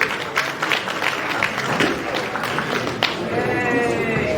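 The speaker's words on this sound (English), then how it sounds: "Councilmember, please, give a round of applause." Audience at a community brunch in Crown Heights clapping in a sustained round of applause, with scattered cheers and voices in the crowd, fairly close and steady.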